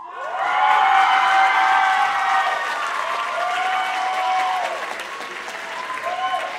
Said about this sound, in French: Applaudissez Frédéric Turcotte.